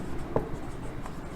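Chalk or marker writing notes on a classroom board, a few short scratchy strokes with one brief louder tap, close and faint against quiet room tone, no talk.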